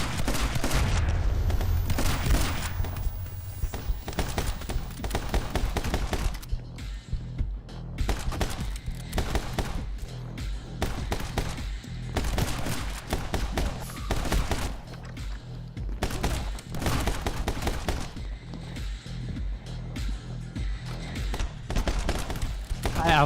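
Rapid bursts of gunfire and bullets ricocheting in the action shooter game My Friend Pedro, dense and continuous over a booming soundtrack throughout.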